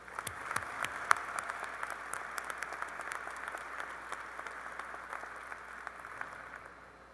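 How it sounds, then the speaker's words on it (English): Audience applause at the University of Maine's 2017 graduate student and faculty recognition ceremony, a steady field of many hands clapping from a large room, holding an even level before tapering slightly at the end. "Please give them all a round of applause."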